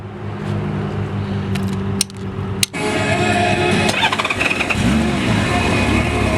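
A 1998 Honda Goldwing GL1500 trike with a Lehman kit cranks briefly, then its engine catches and settles into a loud, steady idle close by, with no talk over it.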